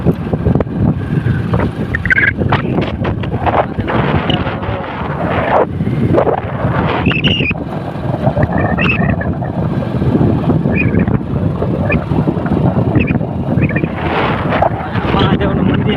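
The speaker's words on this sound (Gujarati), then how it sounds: "ગાડી લઈને નીકળી ગયા છીએ ઘર તરફ" A car drives along a village road near a dam, its engine and road rumble buried under heavy buffeting wind noise, with people talking throughout.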